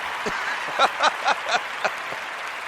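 A studio audience at a comedy talk show applauds, a steady wash of clapping with several louder surges and cheers rising over it, fairly close and lively.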